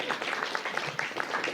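A comedy club audience in Wageningen claps briefly during a stand-up set, a short burst of scattered applause from a small crowd.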